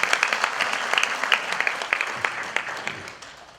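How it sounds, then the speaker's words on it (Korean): An audience claps at a commemorative ceremony, a steady round of applause with crisp individual claps standing out, fairly loud and close, tapering slightly toward the end with no speech over it. "모든 분들께 다시 한번 감사의 박수를 주시면 고맙겠습니다"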